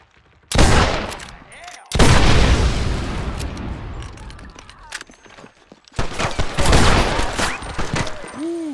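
Gunfire in the Red Dead Redemption video game on PC comes in loud, close bursts of rapid shots and booms, separated by brief quieter gaps, with no voices.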